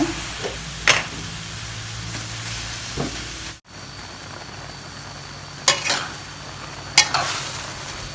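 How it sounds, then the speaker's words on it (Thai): Mushrooms are dry-roasted in a pan, with intermittent scraping strokes of a utensil against the pan over a soft steady hiss, and a brief dropout midway. "อันนี้เฮาก็คั่วไปคั่วจนแห้งไปแล้ว"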